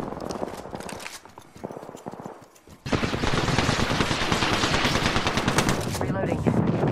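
Rapid automatic gunfire in Apex Legends, starting with scattered bursts, then a sustained loud stream of shots close by after a brief lull, with faint voices under it.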